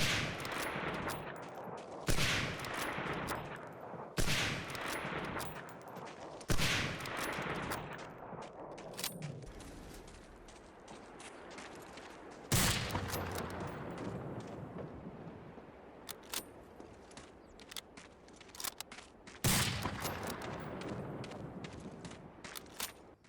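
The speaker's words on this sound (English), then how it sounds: "you get stuff like the snipers, which sound absolutely fantastic" Sharp sniper rifle cracks and gunfire from the WWII shooter Medal of Honor: Allied Assault ring out in widely spaced, loud reports, each trailing into an echoing decay, with scattered smaller shots between them.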